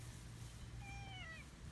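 An old cat gives a single faint meow, a rising then falling call heard alone against a steady low outdoor hum.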